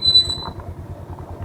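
Motorcycle brakes squeal on a gravel off-road trail, a high thin whine fading within the first half second over a steady rumbling engine chug with a regular pulsing beat.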